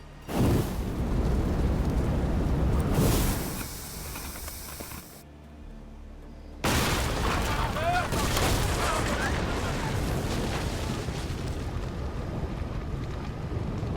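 A mine blows up in Assassin's Creed Odyssey, a loud broadband roar lasting about three seconds that drops to a quieter lull and then surges back into a sustained rumbling, hissing blast to the end.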